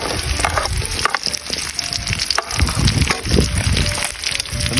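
Fried egg and tofu sizzling in hot oil with browned garlic, onion and ginger, a loud constant crackle with a few clinks and stirring knocks close by.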